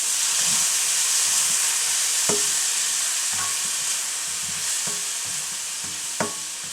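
Beef lo mein with broccoli and sauce cooks in a pan with a steady, loud sizzle and hiss, broken by a few sharp utensil clicks and taps against the pan.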